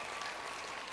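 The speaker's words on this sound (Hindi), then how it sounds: "जबरदस्त वाला तालियां, छोटी मोटी तालियां नहीं पहुंच सकते, जबरदस्त वाले ही पहुंच सकते हैं।" Audience applause at a diamond-rank celebration event in Rajasthan, a brief steady patter of many hands clapping, fairly faint and even, with no voices over it.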